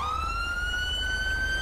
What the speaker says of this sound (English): here's fire and ambulance coming up on scene